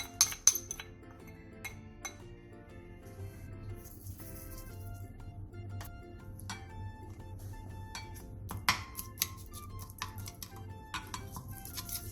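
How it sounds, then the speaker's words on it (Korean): Eggs, scallion, salt and minced garlic are mixed in a bowl, giving sharp clinks and taps of utensil on the bowl. The taps are irregular at first and then settle into a quieter stretch of clicks and scrapes. "계란 2개, 대파, 소금 3분의 1티스푼, 다진 마늘 3분의 1스푼을 넣고 골고루 섞어주세요."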